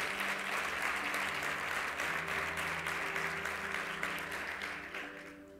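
A church congregation claps steadily in a dense, continuous wave of applause that holds level before fading slightly at the end, with a faint voice underneath.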